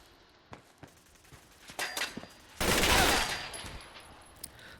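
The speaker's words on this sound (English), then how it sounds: "The recoil on this gun is pretty exceptional." Gunfire in Fallout 4 from a heavy-recoil weapon: a few scattered shots, then a dense sustained burst of rapid automatic fire that fades into lighter pops, loud and near.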